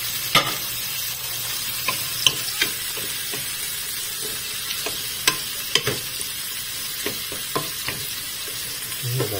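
Tomatoes cook in a pot of sinigang sa miso, giving a steady close sizzle and simmer with scattered clicks and stirring scrapes of a utensil, no talking.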